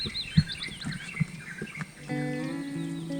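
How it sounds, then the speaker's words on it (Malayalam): Birds chirp and tweet in brief, faint calls on an outdoor road trip in hilly Idukki, followed by a steady low hum. "കിളിയുടെ സൗണ്ട് നോക്കി"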